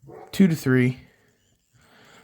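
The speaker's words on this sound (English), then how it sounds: "You can hear my dogs barking in the background." Dogs bark a couple of quick yips nearby at a fly-tying bench, loud and brief, with a voice speaking in the clip.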